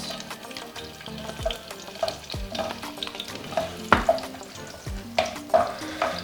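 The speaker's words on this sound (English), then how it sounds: "And I fry them until they're translucent" Onions frying in hot oil in a pan for gizdodo, a steady close sizzle broken by repeated scraping stirs and occasional clinks of a utensil against the pan, with no talking.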